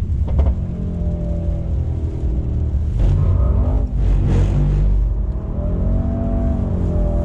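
A car engine drones loudly through a four-wheel slide. Revs dip and swell as the car drifts, with a brief rumbling surge in the middle, heard close from inside and with no one speaking.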